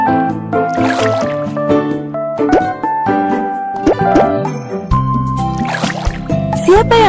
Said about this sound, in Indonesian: Tuangkan jus untuk teman-teman kecilmu untuk diminum.